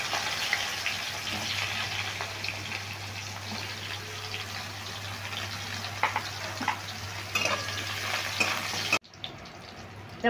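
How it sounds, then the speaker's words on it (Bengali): Pointed gourd pieces fry in oil in a pan, a continuous close sizzle with occasional stirring clatter, cutting off abruptly near the end. "এতে দিয়ে দিচ্ছি পটলগুলো, একটু ভেজে নিচ্ছি"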